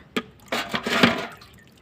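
Water poured from a container into a pot of soil for a coleus cutting, a few splashing gushes and dribbles close by, with no talking.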